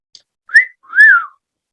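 A woman whistles two clear, close notes: a short rising chirp followed by a longer arching tone that swells and falls away, with no talking.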